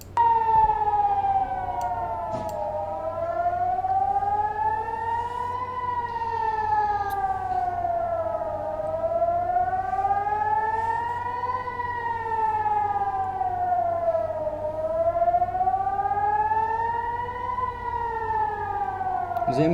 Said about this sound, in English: Got loads of sirens going off, loads of settlers panicking, all that type of stuff.